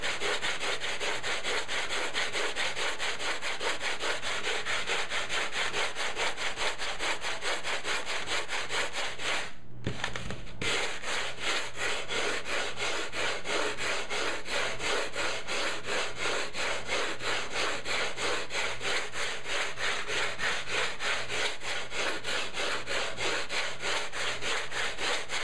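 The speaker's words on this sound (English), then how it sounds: "you can use a regular sander with this stuff" Regular power sander working on styrofoam, a continuous rhythmic rasping buzz, close and steady with one brief interruption.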